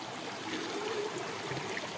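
Clear creek water flows over stones in a steady, even rush with light gurgling, close and constant throughout with no voices.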